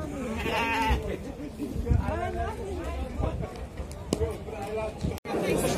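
Lambs bleat repeatedly at a busy livestock market, their wavering cries mixed with nearby bargaining voices and general crowd chatter.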